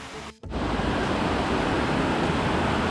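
Waterfall at Yedigöller in Bolu, Turkey, roars as loud, steady broadband rushing water that starts abruptly after a brief dip and continues without change.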